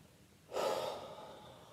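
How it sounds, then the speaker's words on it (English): A single deep breath drawn in sharply and then let out slowly, close and soft, with a breathy rush that fades away and no other sound. "all you need to do to achieve flow is to take a deep breath"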